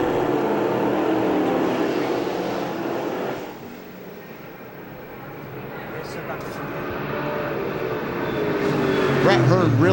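Dirt race cars roar around turns and down the front straightaway at Syracuse during the 2002 Eckerd 200, engines loud and dipping briefly as the pack passes, with a commentator talking throughout.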